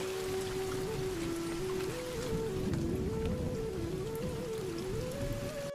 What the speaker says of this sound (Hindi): बाहर मूसलाधार बारिश हो रही थी